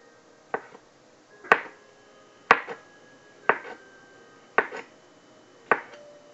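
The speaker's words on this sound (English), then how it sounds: "we're going to use this beautiful utility knife to cut the mushrooms" A sharp utility knife slices mushrooms on a board in six crisp, evenly spaced chops, each a clean, close knock against the wood in a quiet kitchen.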